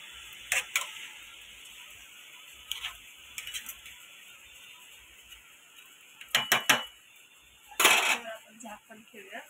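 Potato bhaji being stirred in a cooking pot, with a few separate scraping and clinking spoon strokes against metal over a quiet background, close and moderately loud.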